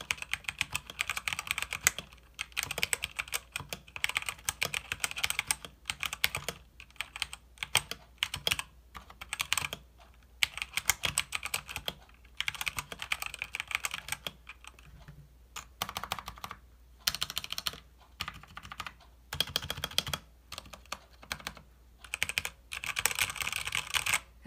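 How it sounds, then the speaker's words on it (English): A Redragon K617 Fizz keyboard in stock, unmodded form is typed on continuously for about 24 seconds. Dense, close key clacks come in quick irregular bursts with brief pauses, and no one speaks. "So here's what the keyboard sounded like before."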